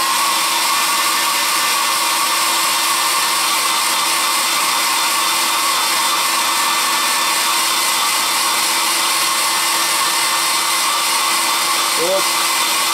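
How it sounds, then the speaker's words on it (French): A hair dryer blows in one steady, loud, unbroken whoosh throughout, with no talk over it. "je vais venir remettre un petit coup de sèche-cheveux"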